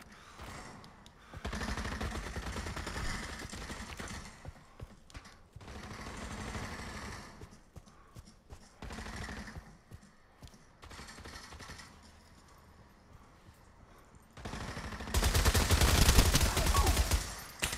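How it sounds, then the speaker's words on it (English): Gunfire rattles in bursts in the VR shooter Pavlov VR, with several clusters of rapid shots separated by quieter gaps, ending in a loud, sustained volley. "Someone shooting me."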